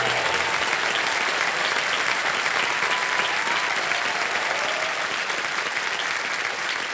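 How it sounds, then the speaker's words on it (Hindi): Sustained, dense studio audience applause on a quiz show set, loud and steady from start to finish with no voices over it. "तालियां बज जाएं इनके लिए।"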